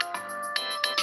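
A computer message notification chimes in a quick series of four bright, ringing tones, evenly spaced and fairly close, with no talking over it.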